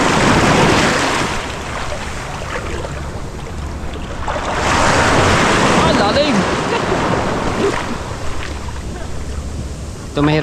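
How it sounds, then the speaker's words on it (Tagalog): Ocean waves surging and washing near a small boat, loud broadband rushes that swell and ebb every few seconds, mixed with gusting wind buffeting the microphone. "Ito mahirap dito mga tepo pagka may alon agad."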